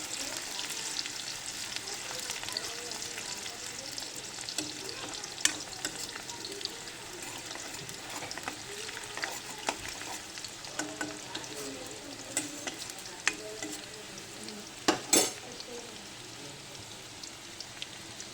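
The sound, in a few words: onions being stirred and fried in a pan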